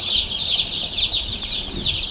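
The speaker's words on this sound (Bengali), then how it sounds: "মাংসের জন্য কালার বার্ড মুরগির বাচ্চা নিয়ে এসেছি" Dense, continuous chatter of many chickens on a poultry farm, a busy flock of coloured-bird chicks clucking and peeping steadily together with no talking.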